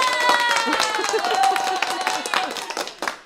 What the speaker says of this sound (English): Party noise for you and applause